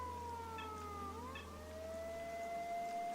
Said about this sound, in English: Yep, there's the siren.